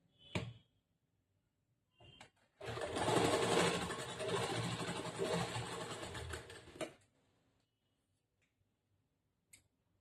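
A sewing machine stitching blouse pieces runs in one steady burst of about four seconds, close and clear, with a few isolated clicks and taps before and after, in an otherwise quiet room.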